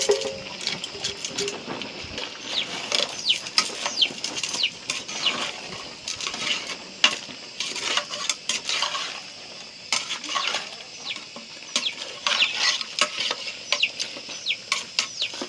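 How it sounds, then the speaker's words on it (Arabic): Broad beans, lentils, chickpeas and fenugreek seeds tipped into a pot with dried chicken, a busy run of dry rattling, pattering and clinking against metal, alone with no voices. "دابا غادي نرمي هادشي الفول والعدس والحمص الحلبه"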